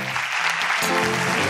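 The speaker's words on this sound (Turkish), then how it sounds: "Kızları da alkışla gönder." Applause from a TV studio audience on a Turkish talk show, a dense steady wash of clapping filling the moment, with music or a low tonal hum underneath.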